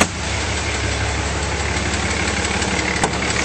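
A 2007 Dodge Ram 2500 with a 6.7L diesel idles steadily up close, a continuous dense engine drone with an even low pulse and no change in pace, broken only by a brief click near the end.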